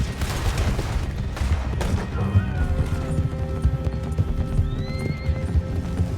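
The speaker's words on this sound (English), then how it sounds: "if you're gonna make me borrow a horse, I'm not gonna feel too terrible about running the legs off of it" A horse gallops with loud, steady clip-clopping hooves in Red Dead Redemption 2 and neighs once, while gunfire and crashes sound around it and voices call out over the ride.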